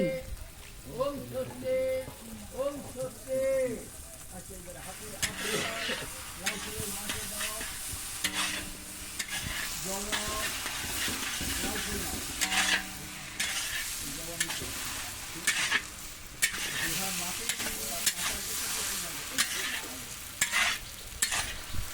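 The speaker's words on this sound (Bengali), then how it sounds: "দিয়ে দিচ্ছি গরম মশলার গুঁড়ো এবং ঘি" Cabbage fries in a pan after garam masala and ghee are added, with a continuous sizzle and repeated scraping stirs of a spatula up close, while a voice talks over the cooking at times.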